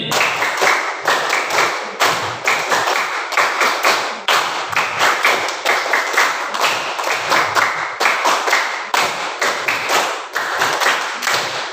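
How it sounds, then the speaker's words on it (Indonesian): During an ice-breaking game, a group claps in tight unison, repeating short runs of five quick claps with brief pauses between them. The claps are loud and close and continue for about twelve seconds. "tepuk 5 kali."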